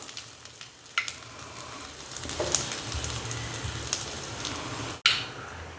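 Fenugreek, cumin, curry leaves and asafoetida hit hot oil after the mustard seeds have popped, for a Tamil broad-bean kara kuzhambu. A soft, steady sizzle runs under sharp crackles and spatters, and a sudden loud knock comes near the end.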